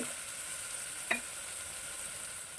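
Ginger and tomato frying in a pan for Ilocano pakbet, a steady hissing sizzle throughout with one brief clink of a utensil midway, close and fairly quiet, no voices.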